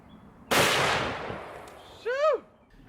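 A single sharp, loud .50 caliber rifle gunshot, fired at an ATM's lock, bursts out and rings down over about a second, followed by a brief rising squeal or ricochet-like whine.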